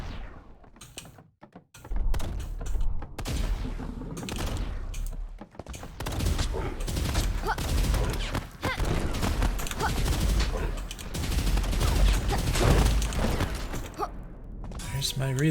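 Enemy gunfire in the video game Cosmic Dawn, bursts of rapid shots and rattling fire over a busy game soundscape, mid-distance, with brief quiet gaps near the start and a voice speaking at times.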